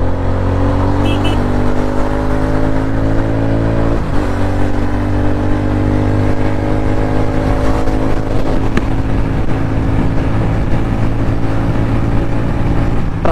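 A 2025 TVS Ronin 225 motorcycle engine running loud and close while riding, with a steady hum that rises and falls through rev changes and gear shifts.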